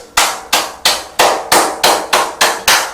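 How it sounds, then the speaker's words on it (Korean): Eight sharp, loud hand claps at a slow, even pace, each ringing briefly before the next, alone with no talk. "박수 치고"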